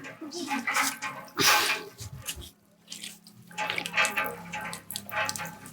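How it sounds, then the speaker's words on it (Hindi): Water gushing from a hand pump at a rural school in India, its iron-rich water drawn by hand, splashing in uneven surges with people talking around it. "खुद चलाते हो ये हैंडपंप?"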